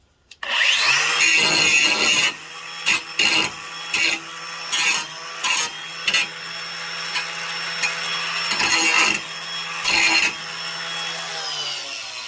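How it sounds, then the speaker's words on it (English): A power grinder takes the sharp edges off a metal part on a Husqvarna tractor, running in a series of short bursts with steady whining tones and brief pauses between passes. "Maybe I'll grind that off quick. Get rid of the sharp edges."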